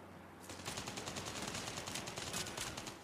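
Rapid bursts of sniper and automatic gunfire from a Call of Duty Mobile match on Android, a dense, steady volley of loud shots lasting about three seconds with no talk.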